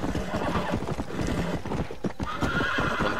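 Horse hooves clip-clopping and a horse whinnying in the video game Red Dead Redemption, a rapid, loud, steady galloping rhythm close by, with a neigh mixed in.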